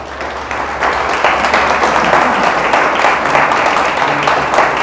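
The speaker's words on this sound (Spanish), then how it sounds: "¿Le damos un aplauso al Señor?" A church congregation breaking into applause during a sermon, dense clapping that swells after the first second and stays full and steady to the end, with a faint voice underneath.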